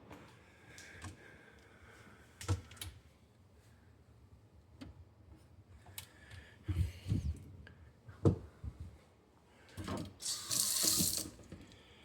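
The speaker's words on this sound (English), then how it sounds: "Bit of a cheap faucet, but it works." A cheap kitchen faucet turned on and off in short bursts, water splashing into the sink, with clinks and handling knocks in between, close and moderately loud.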